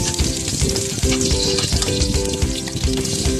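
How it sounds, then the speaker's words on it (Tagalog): Onions sizzle and crackle steadily in a hot pan of oil after fish has been fried, a dense close frying hiss with light stirring clatter throughout. "Ngayon, magkikisa naman tayo ng sibuyas,"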